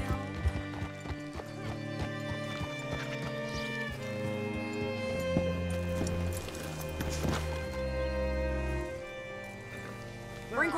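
Horse hooves clip-clop at an easy rhythm in the Red Dead Redemption 2 video game, with occasional whinnies and neighs over game music and someone speaking briefly.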